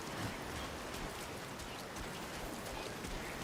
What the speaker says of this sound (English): there was a lot of timefall rain happening